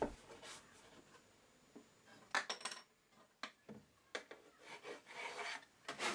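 Pencil marking plywood length by hand on a woodworking bench: a series of short, close scratchy rubs and strokes separated by small knocks and pauses, with no talking.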